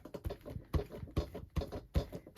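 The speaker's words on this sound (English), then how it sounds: "whatever's hanging over, I'll just trim off with a pair of scissors" Rhythmic crisp snips and rustles, about six in quick succession, as scissors trim a stiff paper junk-mail postcard close up.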